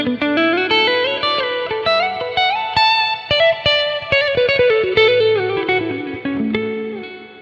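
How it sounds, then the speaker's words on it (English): An electric guitar tuned to drop A plays through the Archetype Tim Henson amp plugin, giving a clean, soft, somber tone with chorus and reverb as picked melodic notes ring over each other, loud and alone. "this is what the plugin sounds like when you load it up"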